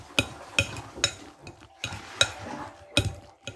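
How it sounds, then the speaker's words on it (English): A spoon stirs a shepherd's pie mixture seasoned with salt and pepper in a pan, giving a run of distinct scraping knocks at an uneven rhythm, close and fairly quiet with no talking. "Give it another little mix."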